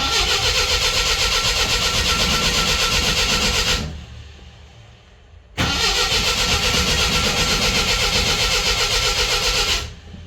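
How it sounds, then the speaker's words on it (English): An MGB fitted with a Weber DCOE carburettor and suffering from vapor lock cranks loud and close in two long bursts of about four seconds each, separated by a brief pause, with no other sound. "Let's see if the car will start."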